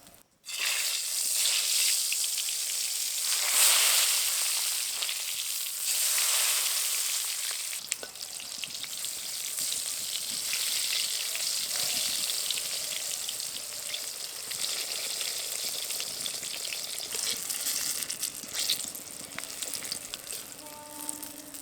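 Eggplant pieces frying in hot oil in a kadai for Bengali begun basanti, a steady loud sizzle and crackle running throughout with occasional spattering bursts and light stirring.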